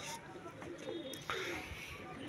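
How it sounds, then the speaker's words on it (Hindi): Pigeons in a breeder's loft make soft, low cooing calls close by over steady outdoor background noise, with a few brief chirps mixed in. "ये देखें यार कबूतर खोले"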